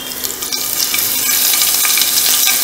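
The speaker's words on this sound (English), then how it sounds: "Fry this for 2-3 minutes." Mashed ginger and garlic fry in a hot tadka for dal, giving a steady close sizzle with occasional crackles and soft stirring, with no one talking.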